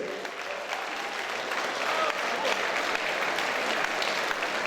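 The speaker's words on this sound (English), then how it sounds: "round of applause for both these young ladies" A boxing event crowd applauds two female boxers after their match, with steady, dense clapping that holds for the full stretch and a faint announcer's voice underneath.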